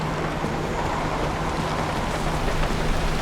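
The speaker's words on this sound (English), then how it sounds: "Go ahead and close that because it's raining outside." Steady, dense rain pours outside a car in the Pacific Drive driving game, a continuous even hiss with no pauses and no speech.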